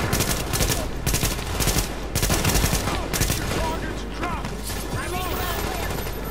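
Bursts of automatic gunfire crackle in a firefight in The Division video game, rapid volleys repeating across the whole stretch with mechanical clanks and faint voices underneath.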